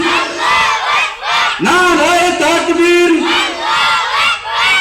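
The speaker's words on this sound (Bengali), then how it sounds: "সবাই মিলে একই তালে দাও না স্লোগান, হেই নারায়ে তাকবীর, নারায়ে তাকবীর" A large crowd chants the Islamic slogan Nara-e-Takbir in loud unison at a religious gathering, repeated rhythmic call-and-response voices filling the space without pause.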